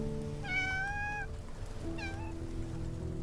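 Cat meowing in the video game Love and Deepspace, two clear close meows a second apart, the second shorter, over faint background music.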